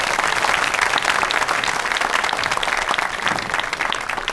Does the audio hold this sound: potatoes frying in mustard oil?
no